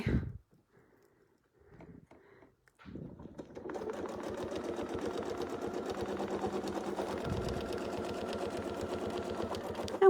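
Sewing machine quilting a straight line across a quilt, starting after a quiet pause with a few brief handling sounds, then running steadily and evenly close by for the rest of the time.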